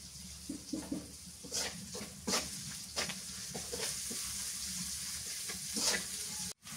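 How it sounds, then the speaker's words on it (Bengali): Onions and chilies fry in hot oil in a rural Bengali kitchen, a soft steady sizzle with intermittent stirring scrapes and clatters, fairly quiet throughout. "পেঁয়াজ মরিচ ভাজা হয়েছে"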